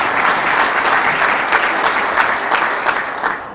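Loud, close applause fills a city address hall, steady and continuous from a sizable crowd, with no voices over it.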